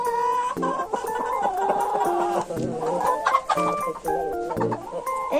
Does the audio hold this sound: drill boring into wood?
no